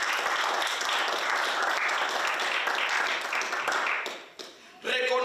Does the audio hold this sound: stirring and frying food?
no